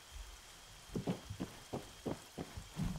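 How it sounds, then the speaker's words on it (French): Rain falls at night in the video game Arma 3, a faint steady hiss with soft irregular patters and low thumps of drops scattered throughout, with no talking. "Il fait nuit, mais en même temps il pleut"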